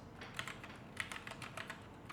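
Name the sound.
typing a web address on a computer keyboard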